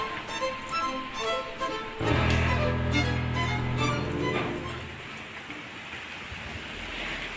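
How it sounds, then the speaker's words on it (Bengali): Continuous heavy rain falling during a storm, a steady broadband wash that grows louder partway through with a low rumbling layer, and no talk. "অনবরত বৃষ্টি পড়েই যাচ্ছে একবারও বৃষ্টিটা বন্ধ হয়নি"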